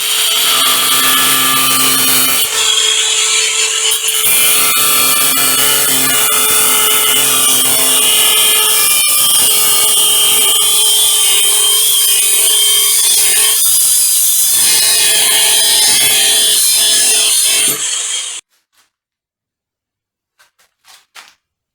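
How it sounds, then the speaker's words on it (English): A power drill bores holes in a metal plate for a router table lift, a loud close grinding whine that runs for about eighteen seconds with pitch shifts before stopping abruptly into near silence with faint knocks. "I am making more holes in the plate that is attached to the router"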